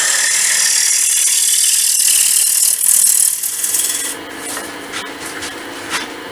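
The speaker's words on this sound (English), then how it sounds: "long grind 1/2 inch bowl gouge. Just doing a fairly aggressive cut to start with." A half-inch long-grind bowl gouge makes an aggressive cut into wood on a lathe, giving a loud, steady hissing scrape that eases off partway through into a quieter, intermittent rasp.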